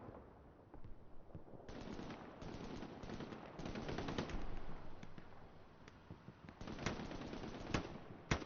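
.30 cal machine gun fire in a multiplayer war game: dense, distant rattling bursts with overlapping shots, steady and sustained, sharper cracks near the end.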